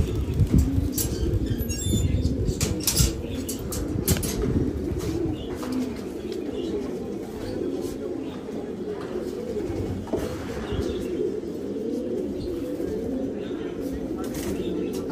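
A released flock of Giribaz pigeons flying overhead outdoors, their wings beating in a dense, continuous flutter, with cooing and other bird sounds, a passing train and people talking nearby.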